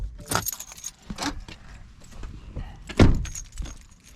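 Car keys jangle and clink in bursts close by inside a parked car at a wild camping spot in Redburn Country Park, with a heavy thunk of handling partway through and quiet pauses between.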